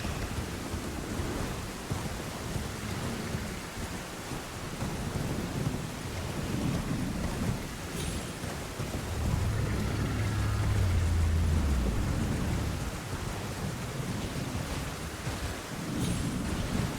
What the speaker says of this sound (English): I feel as if it's more frequently raining in this region than elsewhere